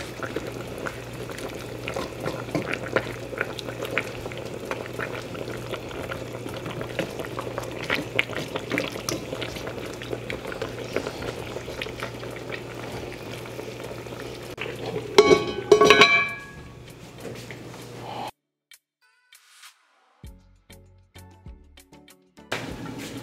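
A pot of broth with vegetables and peppers at a steady rolling boil, bubbling and gurgling quietly for about fifteen seconds before the sound cuts off into near silence.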